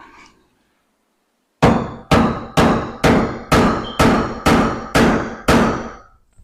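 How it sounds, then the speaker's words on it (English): A hammer striking a center punch on a Toyota Tacoma hood, nine sharp metallic blows in a steady, evenly spaced rhythm, loud and close, after a brief quiet pause. "Taking a center punch and a hammer, hit the center point right where you just marked."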